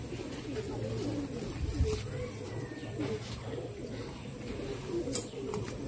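Long-distance Madrasi pigeons cooing in a low continuous murmur, with occasional faint chirps over a steady background hum.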